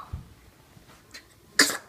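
A single sharp sneeze bursts out near the end, loud and close, after a soft muffled sound earlier in a quiet room.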